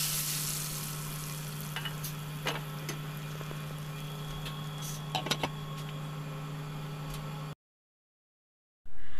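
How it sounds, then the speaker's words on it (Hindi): Cumin seeds and round red chilies sizzle in hot desi ghee for a dal tadka, a steady close crackle with a few sharper pops and spatters, before sudden silence and a brief return of noise. "चलिए मज़ेदार से तड़का डाल देते हैं दाल के ऊपर।"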